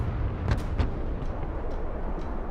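A close air support strafing run in Broken Arrow, with a few sharp gunfire bursts and rumbling impacts over a low, steady battle roar, moderately loud.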